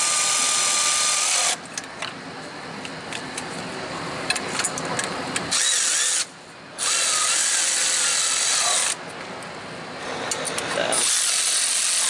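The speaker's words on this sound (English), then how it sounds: "I'll run them in with the impact and then hit it again with a ratchet." Impact wrench running bolts into a replacement catalytic converter on a Nissan Altima, several loud buzzing bursts of a few seconds each with short pauses between, close up, a brief word spoken.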